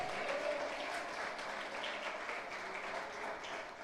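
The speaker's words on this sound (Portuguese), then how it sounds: "Dê glória junto com esse aplauso" A church congregation applauds during a sermon, a steady wash of many hands clapping at once, fairly quiet and distant, with no voices over it.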